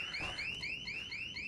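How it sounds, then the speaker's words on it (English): A repeating alarm siren goes off inside the zombie video game Dead Island 2, its rising electronic sweeps cycling steadily about every third of a second, loud and unbroken. "I've set an alarm off"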